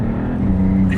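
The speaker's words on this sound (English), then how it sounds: "this thing sounds so good. You can hear all the turbo noises all the time." The turbocharged engine of a 2025 Maserati GT2 Stradale drones from inside the cabin with a steady low tone. A brief higher turbo whoosh rises near the end of the short burst.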